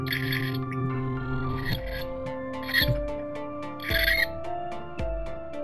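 Tawny owl chicks calling from inside a nest box, a run of rasping, hissing begging calls that swell in bursts over a steady tonal background with music-like harmonics.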